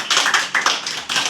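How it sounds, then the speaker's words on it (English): A short burst of classroom clapping by students at a coaching centre, a few loose rounds of hand claps close by. "Clap for it."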